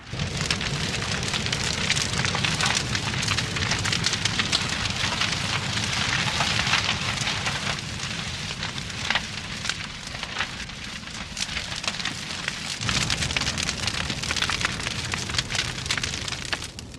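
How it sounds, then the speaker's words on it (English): A fire burns at the base of a tall industrial chimney being felled, giving a steady dense crackling roar that holds loud and continuous throughout, with no voices over it. "Look, they keep looking at the fire."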